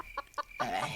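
Chicken clucking nearby, a few short clucks followed by a louder, longer squawking cluck, with no talking.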